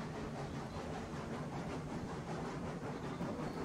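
Train rolling along rails in the video game Railroads Online, a steady broadband rumble and hiss with faint rhythmic clatter, continuous and moderately quiet throughout with no talking.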